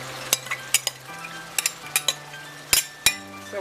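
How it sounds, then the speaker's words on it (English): Sausage meat sauce goes into a pot on the stove, with a run of sharp clinks and scrapes of a utensil against the pot over a low steady hum, close and fairly quiet. "So now we're adding the sauce."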